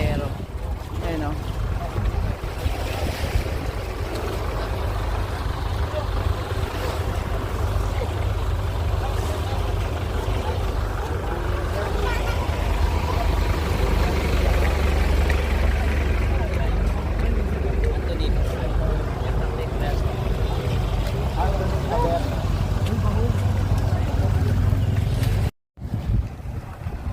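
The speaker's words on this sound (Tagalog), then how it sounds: "ito yung aming sinakyang bangka" A passenger boat (bangka) heads toward the port on Itbayat Island, Batanes, its engine droning steadily and loudly throughout under wind buffeting the microphone, briefly cutting out near the end.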